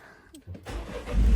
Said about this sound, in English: And let's get this car started